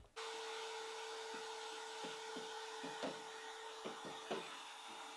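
A vacuum cleaner sucking up metal dust inside a ProMaster van gives a steady, even whine after switching on abruptly, broken by several soft knocks and clunks as the nozzle moves around.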